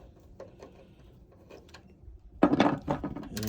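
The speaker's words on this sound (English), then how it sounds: "to remove the taillight, you're basically going to undo these two screws here," T20 Torx screws being undone from a taillight on a Gen 4 Dodge Ram truck: faint light ticks and clicks, then a louder burst of close mechanical scraping and clicking.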